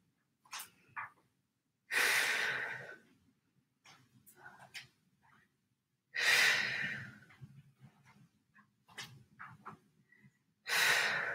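Strong, forceful exhalations during a lunges workout, three long breathy blows spaced several seconds apart, close to the microphone, with quieter short breaths and faint sounds between them.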